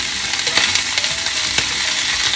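Potatoes fry in a pan for German-style potatoes made with new potatoes and new onions, giving a steady close sizzle throughout with a few soft clicks of stirring and no talk.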